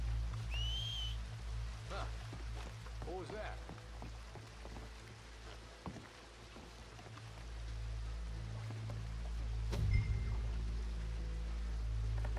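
Short whistles ring out in a Red Dead Redemption 2 outdoor scene, a couple of rising tones near the start and another later, over low ambient rumble and soft rain-like hiss, with speech mixed in.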